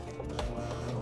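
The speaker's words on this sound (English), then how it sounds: "And now I can start sewing, do the same back stitching thing" A sewing machine stitches a fabric mask with a fast, steady mechanical whir and ticking, close and fairly quiet.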